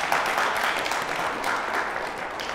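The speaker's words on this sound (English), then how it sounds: "Let's clap that up." A crowd at a 2017 Raptor Tank business pitch competition applauds in a full, continuous wash of clapping that stays at a steady level throughout.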